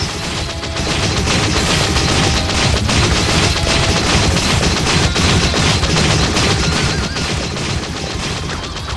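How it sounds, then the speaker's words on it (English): Dense, continuous gunfire rattles through a battle in the video game Ys Chronicles+ I, loud, close, and sustained for the whole stretch with a couple of brief dips near the start. "Shots."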